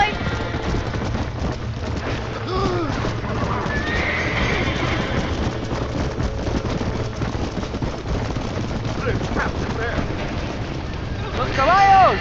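Horses whinny and neigh in panic inside a burning barn in Red Dead Redemption, with hooves clip-clopping, fire crackling and shouting voices beneath, and a loud, sharp whinny near the end.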